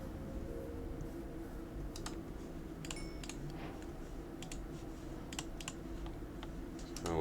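Keyboard and mouse clicks from a Minecraft Java player, bursts of quick, light key taps and clicks at a close, quiet level over faint game background, with no talking.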